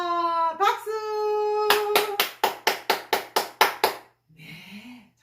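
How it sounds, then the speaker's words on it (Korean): Group of people clapping hands together in unison during a health exercise session, about nine sharp rhythmic claps in a row after a brief stretch of singing or talking voices, followed by quiet murmuring. "박수."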